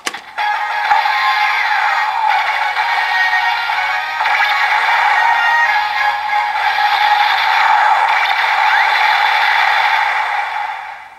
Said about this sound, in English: that transformation sound you just heard is actually toy exclusive